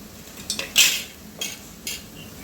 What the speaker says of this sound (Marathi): आता यामध्ये आपण हे आलू टाकून द्यायचे आहे